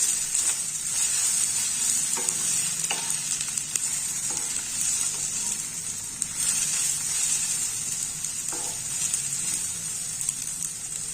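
Pirandai (adamant creeper) and ridge gourd peel being stir-fried in a pan give a steady, close sizzle with occasional scraping stirs throughout, no voices.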